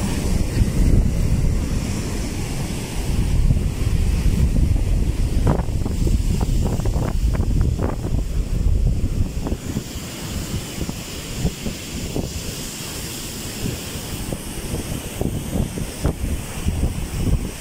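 Large waves and strong wind along a coastal village shore during a typhoon, a continuous roaring surf with heavy gusts buffeting the microphone and repeated surges breaking close by.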